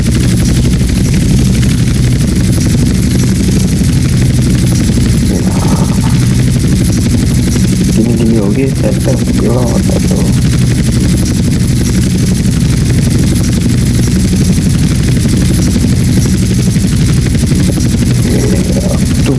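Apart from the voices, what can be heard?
attack helicopter flying in a video game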